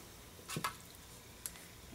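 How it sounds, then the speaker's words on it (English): Stampin' ink refill drips onto a surface in a few soft, wet taps, quiet and close, with no talking. "we're just going to drip it, drop it, drap it, here, there, and everywhere"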